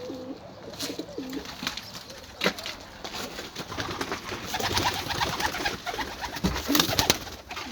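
Pigeons coo in repeated soft, throaty phrases just after being let out. Wings flap now and then, and there is some faint background noise.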